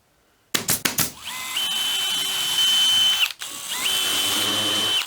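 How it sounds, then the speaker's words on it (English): A power drill bores through a metal bracket, a shim and plywood in a woodworking build, with two sustained whining drilling runs after a few short trigger bursts, close and loud. "I'm going to drill all the way through the bracket and then position that over the shim and drill through the shim and the plywood."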